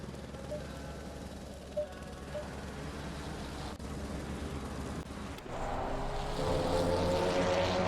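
Race car engines roar and whine in a GTMR racing video game at the Barcelona-Catalunya circuit: a steady, droning engine note that swells louder and brighter in the final seconds.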